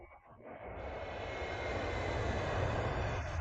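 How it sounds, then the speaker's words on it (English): A B-2 stealth bomber's engines drone in flight at very high altitude, a steady broad roar that swells and holds, with no voices. "a B-2 stealth bomber flies at a very high altitude"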